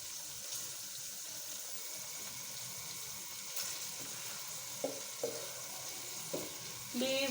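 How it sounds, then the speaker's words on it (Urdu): Chopped carrots sizzle and fry in a pan for Chinese rice, a steady close hiss broken by a few light clinks of stirring near the end. "اب اس میں ڈالیں گے 2 گاجر جو ہم نے کاٹے تھے، اس کو فرائی کریں گے۔"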